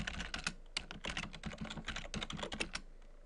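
Rapid, steady keystrokes on a computer keyboard entering commands into a Check Point Gaia firewall management server's command line, close and clear with no talking.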